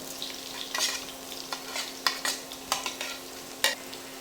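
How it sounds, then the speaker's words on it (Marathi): Chopped onion and green chilli sauté in hot oil, a soft sizzle under repeated sharp stirring scrapes of a spoon against the pan, close and intermittent. "हा कांदा त्या तेलाबरोबर परतून घ्यायचा आहे."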